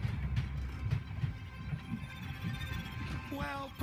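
A train rolling on rails in the game Voidtrain, a low rumbling clatter with rhythmic thumps under a voice, ending with a brief rising tonal whine.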